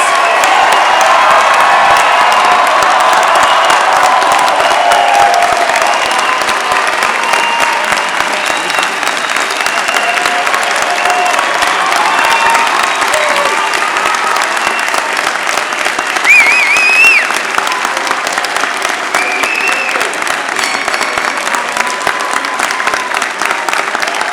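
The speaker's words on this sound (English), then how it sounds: "Please rise and give our graduates a round of applause." Long, loud applause from a large commencement audience at the WPI 2017 undergraduate ceremony, sustained clapping with scattered cheers and whoops rising above it.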